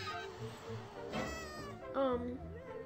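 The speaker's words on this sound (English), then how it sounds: "lady with her cat stuck in a tree" Cat stuck in a tree in a video game, giving two or three plaintive meows in close succession, mid-loud over faint background game noise.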